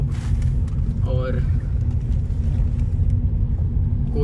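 Low, steady road and tyre rumble inside a 2023 Hyundai i20 Sportz on the move, a constant drone that continues throughout with a brief faint whine partway through.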